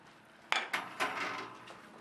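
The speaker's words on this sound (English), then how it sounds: "we toss the whole pan right in the oven" A metal pan clanks as it is set into the bottom oven of a kitchen, two quick knocks followed by a softer scraping slide, close and moderately loud, with no talk over it.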